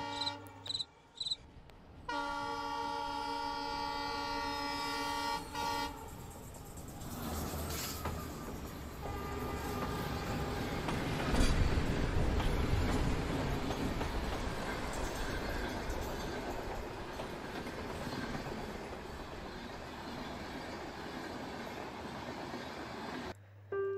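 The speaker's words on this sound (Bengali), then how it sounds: "ওদিক থেকে ট্রেনের হর্ন শোনা যাচ্ছে। ট্রেনটা আস্তে আস্তে প্ল্যাটফর্মে এসে দাঁড়ালো।" A train sounds a long, sustained horn, then rumbles in and gradually slows to a stop at a station platform, the heavy rolling noise building and lingering in a quiet setting.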